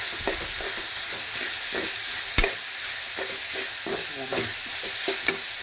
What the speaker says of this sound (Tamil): இது கொஞ்சம் வதங்கப்படும்